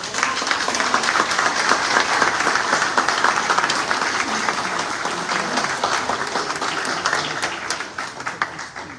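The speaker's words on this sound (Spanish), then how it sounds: "Un gran aplauso para ellos," Steady, dense applause fills the room at the opening of a surrealism exhibition as the audience claps for the collection curators, holding strong throughout and thinning slightly at the end.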